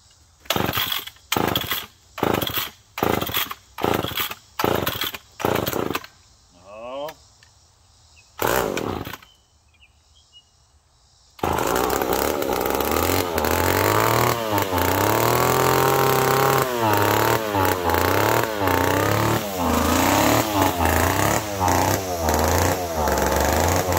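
McCulloch Pro Mac 1010 chainsaw with both carburetor screws one turn out: a series of sharp pull-start bursts, then after a pause the engine fires and runs steadily and loudly close by, revving up and down.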